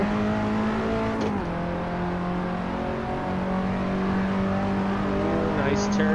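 A rented KTM X-Bow sports car lapping the Nordschleife, its engine droning loud and steady from close by with revs rising and falling through gear changes and a brief tire squeal, while someone talks over it.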